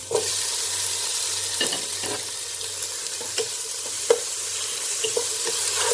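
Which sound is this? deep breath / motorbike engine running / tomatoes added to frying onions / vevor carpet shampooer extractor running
tomatoes added to frying onions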